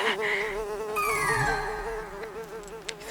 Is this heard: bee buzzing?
yes